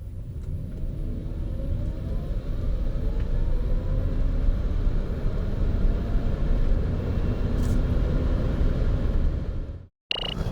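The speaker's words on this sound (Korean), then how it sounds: "르노 조회 과연 어떤 가속 성능을 내는지 한번 볼까요?" A Renault ZOE electric car accelerating hard, heard as a steady, loud broadband road and tyre rumble with a faint rising whine, running continuously for about ten seconds before cutting off abruptly.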